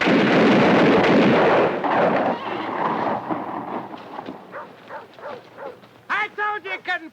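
Cavalry cannon fire in a western film: a loud booming blast with a rumbling roll, followed by horses neighing and commotion, with voices shouting amid the noise.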